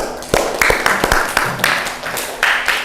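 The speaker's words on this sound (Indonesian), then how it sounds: "Tepuk tangan." Students in a classroom clap together, a short burst of sharp, uneven hand claps that rise and fall in loose rhythm, loud and close, with faint voices mixed in.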